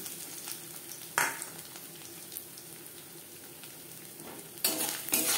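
Dried red chilies, bay leaves and whole cumin fry in a pan, giving a soft steady sizzle with two sharper bursts of hissing and clatter, close and without talk.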